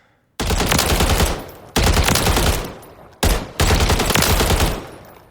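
AK-ALFA rifle fired on a firing range in Call of Duty Modern Warfare III: three loud, sustained full-auto bursts with brief gaps between them, close and dry, with no talking.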